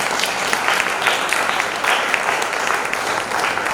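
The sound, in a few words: audience applause after a stage play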